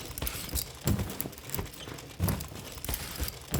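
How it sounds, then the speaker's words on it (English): A vintage sewing machine pedal and mechanism used as the controller in the game Die Näherinnen, giving a rhythmic clattering and thumping pattern, close and moderately loud, with no talking. "So you play by operating a pedal of a real vintage sewing machine"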